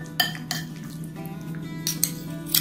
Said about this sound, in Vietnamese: Bắt đầu thì mình trộn những cái nguyên liệu này lên nha.